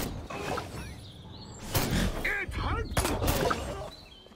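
Gunfire from the video game Destroy All Humans crackles in several sharp, loud broadband bursts clustered in the second half, mixed with game clatter and voices talking over the action.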